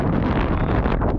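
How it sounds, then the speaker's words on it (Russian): Strong outdoor wind buffets the microphone with a loud, continuous roaring rumble that never lets up. "Чтобы вы просто понимали, какой ветер."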